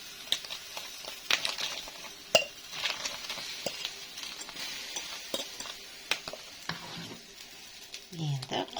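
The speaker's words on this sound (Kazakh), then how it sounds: "Енді құртымызды араластырамыз." Kurt is stirred into Nauryz kozhe soup in a pot, with soft irregular clinks and scrapes of a utensil against the pot over a faint bubbling background, fairly quiet and close.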